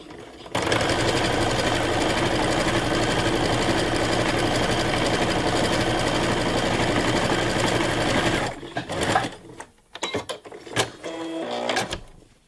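A sewing machine stitches wide, short zigzag stitches in one loud, steady, unbroken run of about eight seconds, then stops, followed by scattered clicks and fabric handling.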